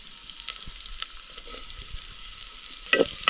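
Finely chopped spring onion with greens, cumin and sesame seeds sautéing in a pan, a soft continuous sizzle with light stirring scrapes, louder crackling bursts near the end.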